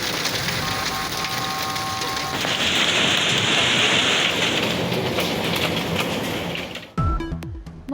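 Heavy rain pours at the Murree hill station, a loud, dense, steady hiss with a brief high tone early on, cut off near the end by a short musical sting.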